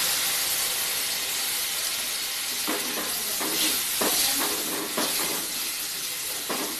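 Tamarind water pours into a simmering garlic curry, giving a steady broad sizzle and steam hiss with a series of short splashing bursts through the middle and end, close and fairly loud, with no talk.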